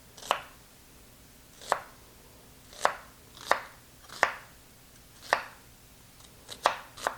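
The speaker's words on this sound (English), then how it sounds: "we're just going to follow the lines of the onion, and that's where we're going to make the slices" A knife slicing through an onion on a cutting board, eight or nine crisp chops at an uneven, unhurried pace, close and clear with no talking.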